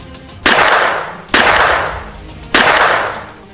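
Three loud, sharp large-caliber rifle shots at a lion hunt in Africa, each a sudden blast followed by a slowly fading echo, spaced about a second apart.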